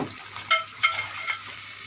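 Spices sautéing and being stirred in a pan, soft sizzle with a few scraping stir strokes over under two seconds, no talk.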